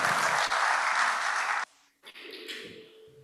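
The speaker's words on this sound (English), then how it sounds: "I'd like to request for a round of applause for our panelists who have been excellent" Applause for panelists at a research week session, a burst of dense clapping that stops abruptly, followed by a brief quiet, then faint shuffling and light tapping noises in the room.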